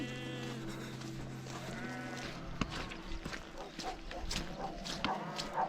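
Sheep bleat repeatedly at a rural New Zealand spot on the Te Araroa trail in Waikato, several overlapping calls at moderate distance over steady outdoor background noise.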